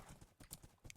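Horse hooves clip-clop in the video game Minecraft, a quick irregular patter of soft clops, faint and steady across the moment.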